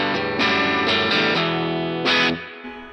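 Distorted electric guitar chords through a Strymon Blue Sky plate reverb pedal ring out in a few strummed hits, each bathed in a bright, smooth reverb tail that fades at the end.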